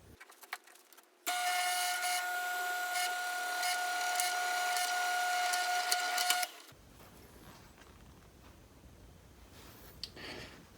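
A drill press boring through a copper piece in a welding shop, a steady whining grind with a constant high tone running for about five seconds, then cutting off to quiet handling noise.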